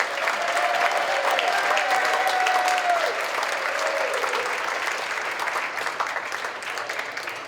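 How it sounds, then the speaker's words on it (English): A crowd at a Chamber of Commerce gala applauds steadily and loudly, a dense wash of clapping that holds for several seconds before easing slightly toward the end. "let's give them a nice, very nice warm round of applause."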